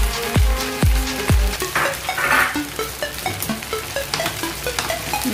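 Egg poured into a hot pan for egg semiya, setting off a burst of loud frying sizzle with a few sharp knocks at the start, then steady crackling and light clatter of a spatula.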